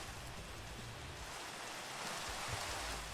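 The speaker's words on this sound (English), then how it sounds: "It's raining." Rain falls steadily in a video game, a constant hiss of downpour that fills the scene evenly with no voices over it.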